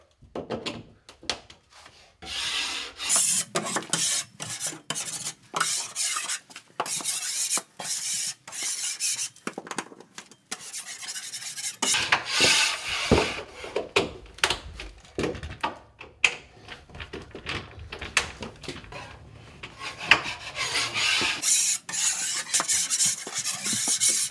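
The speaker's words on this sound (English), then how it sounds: "with your Phillips screwdriver, run it in, give it a couple turns" A Phillips screwdriver drives screws into drywall, making close, repeated short rasping and grinding bursts with brief pauses between turns.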